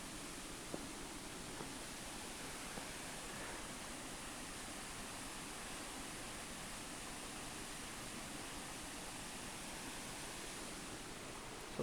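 A foamy river in Mission Trails Regional Park rushing steadily, a constant soft hissing wash of water with no distinct splashes, heard alone.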